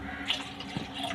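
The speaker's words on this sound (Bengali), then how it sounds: "কড়াতে আমি জল গরম করতে দিচ্ছি" Water pours briefly into a kadai set on to heat for boiling jackfruit, a soft splashing trickle heard close and alone.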